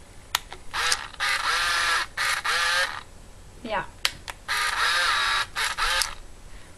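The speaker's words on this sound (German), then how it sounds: "Eine coole Kamera, die ein tolles Geräusch macht." A film camera's shutter clicks sharply several times, and the film advance mechanism whirs and ratchets in bursts, close and clear, with a brief spoken word in German.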